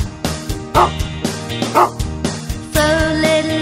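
A sung voice imitates a dog barking four times over bouncy nursery-rhyme music, each woof a short, bright burst in a steady rhythm.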